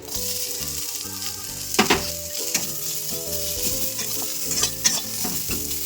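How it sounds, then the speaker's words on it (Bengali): Chopped onions frying in a small amount of oil in a pan, with a steady close sizzle, stirring scrapes and a couple of sharper clanks of a utensil against the pan, no voices. "এত কম তেলে পেঁয়াজ ভাজবে কী করে দেখতে থাকুন করে ভাজি"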